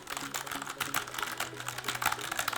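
Keys clatter steadily on a Corsair K100 Air gaming keyboard, a dense, continuous run of quick clicks throughout without any voice.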